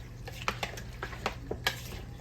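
A spoon stirs macaroni into a creamy cheese sauce in a pot, soft wet squelches and light scraping clicks against the pan in an irregular rhythm, quiet and close over a low steady hum.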